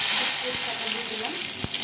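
Hot oil crackles and hisses in a pan as a bay leaf goes in for a lentil dal tempering, a steady close sizzle with a couple of brief sharper pops.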